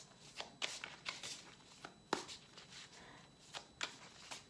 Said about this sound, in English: right when I was gonna stop shuffling.